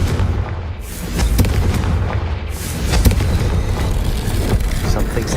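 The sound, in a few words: explosion from Confringo spell in video game Hogwarts Legacy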